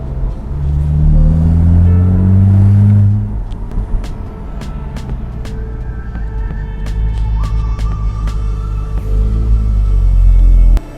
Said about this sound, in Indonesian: kita bisa mengaktifkan mode pembuka katup muffler yang membuat suara mobil ini jauh lebih garang